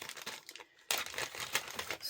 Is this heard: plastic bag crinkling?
yes